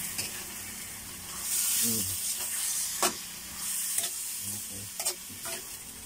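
Food seasoned with fish sauce sizzles in a pan while a utensil stirs it, producing a moderate hiss with several sharp clacks and scrapes against the pan and a brief swell of steam.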